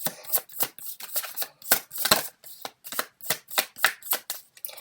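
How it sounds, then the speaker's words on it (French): Tarot cards are shuffled and laid out on a table, heard up close as a fast, steady series of crisp riffling and slapping strokes with no voice. "Je vais sortir toutes les cartes d'abord."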